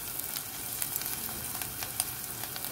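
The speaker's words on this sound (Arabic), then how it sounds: "وهوني انا عم قلي البصل بس حتى يدبل عنا" Chopped onions fry in a pan on the stove, a steady close-up sizzle with light crackles and pops throughout and no voices.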